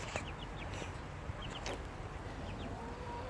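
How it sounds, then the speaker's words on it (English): Faint, scattered clucks from a farm chicken flock, probably including a black-feathered rooster, over a soft outdoor background. "that's the rooster"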